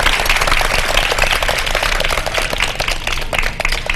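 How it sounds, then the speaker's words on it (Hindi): A studio audience claps for children in dense, continuous applause that stays loud and close throughout. "जबरदस्त सब तालियां बजा रहे हैं आप लोगों के लिए आप लोग भी तालियां बजा रहे हैं अपने लिए"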